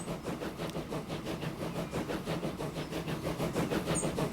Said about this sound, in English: first train of the day